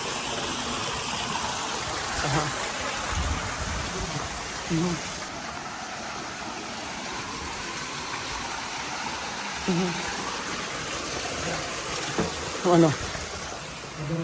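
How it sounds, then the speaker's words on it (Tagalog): Water runs steadily at a resort, a continuous rushing wash heard throughout at moderate level, with brief bits of voices breaking in now and then. "Yan tubig."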